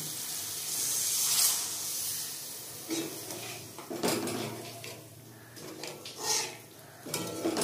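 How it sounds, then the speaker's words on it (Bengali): Water from a bowl is poured into paneer curry simmering in a pan, a soft splashing pour amid clinking of utensils and cookware, fairly close and moderately loud with no talk. "এবার এর মধ্যে আমি 1 বাটি জল দিয়ে দেবো"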